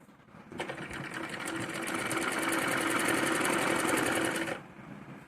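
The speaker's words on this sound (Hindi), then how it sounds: "जिस तरीके से हम इधर से सिल रहे हैं उसी तरीके से दूसरी पैर की तरफ से सिलेंगे।" A sewing machine stitches a salwar in one close, steady burst of rapid rhythmic needle clatter lasting about four seconds, starting and stopping cleanly.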